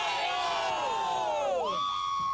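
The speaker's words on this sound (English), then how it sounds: "I need you to scream out OH as loud as you can" A comedy club audience in Columbus, Ohio, screams a long, loud "OH" together. The many voices sustain the shout, then slide down in pitch as a few keep whooping at the end.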